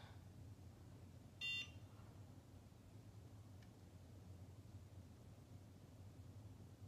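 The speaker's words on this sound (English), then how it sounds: "just glide it until you hear that beep" A NuFace Trinity facial device with the ELE attachment gives one short, high electronic beep, clear but soft, over a faint steady hiss in a quiet room.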